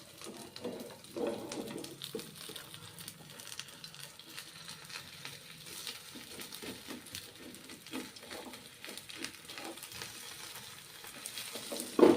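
Millet-flour chamchamiya frying in a pan with a little oil and white sesame seeds, giving a steady close sizzle and crackle with occasional stirring scrapes, no voices.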